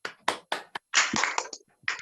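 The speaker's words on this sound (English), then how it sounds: "Give applause to Eli's group, please." Classroom applause for a group's presentation, heard as a few sharp, separate hand claps and short bursts of clapping from a small group, close and fairly loud, with no voices.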